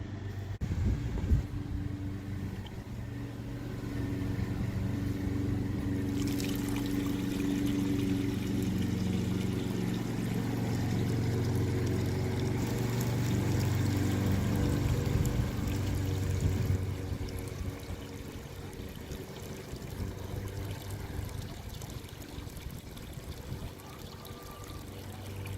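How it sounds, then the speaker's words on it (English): Water pours steadily into the reservoir of a three-tier Greenstalk vertical planter, a continuous close splashing flow that holds at a constant level for the whole stretch, with no voices. "that's where we're going to fill the water up to"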